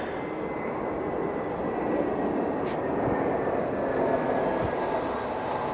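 A JetStar airliner arriving near the Harewood Road mound makes a steady, loud broadband roar that holds evenly for several seconds without a break.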